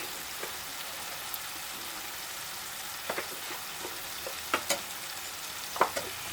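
Stirring spices into a pan of frying murrel (korameenu) fish with turmeric and chili, a quiet steady sizzle broken by a few soft scraping clicks of the spoon, with no talk.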